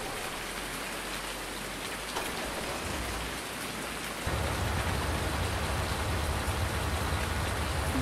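Steady rain in the video game Farming Simulator 19 pours down in a dense, continuous hiss, growing heavier and louder partway through, with no voices.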